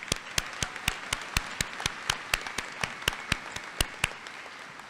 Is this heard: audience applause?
yes